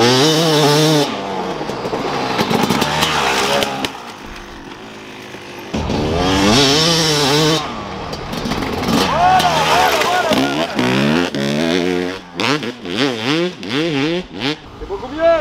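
A motocross motorcycle engine revs loudly through a flat corner, rising and falling in pitch with repeated throttle blips and choppy bursts, close and dominant.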